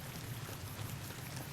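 Rain effects in the video game Fallout New Vegas play as a soft, steady wash of falling rain, continuous and fairly quiet throughout.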